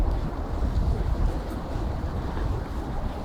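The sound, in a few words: cold winter wind outdoors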